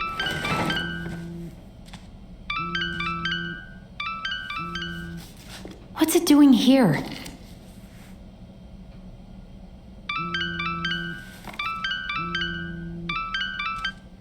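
A phone rings in the video game Tell Me Why, a repeating electronic ringtone melody playing in bursts with short pauses, stopping briefly around a loud sweeping sound before resuming; a character talks over it.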